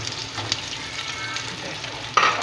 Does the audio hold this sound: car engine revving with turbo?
no